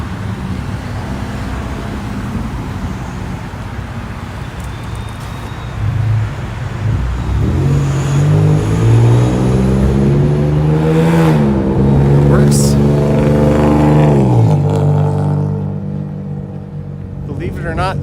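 A modified car's engine revs loudly in city traffic on a snowy street, rising and falling in pitch over steady road noise for several seconds, with a voice talking nearby.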